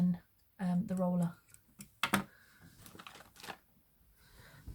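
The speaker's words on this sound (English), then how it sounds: "I like a good clicky lighter." A clicky push-button lighter snaps a few times, sharp dry clicks at close range amid soft handling noises and quiet background sounds.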